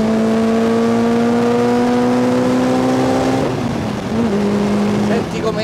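A Lotus Exige S GT Special Edition engine pulls hard under acceleration, a loud rising tone that climbs steadily, dips through a gear change, then keeps pulling, heard from the cabin.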